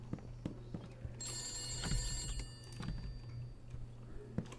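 In a video game, a telephone rings with a bright, sustained electronic trill lasting about a second and a half, heard faintly under muffled background thuds and clicks.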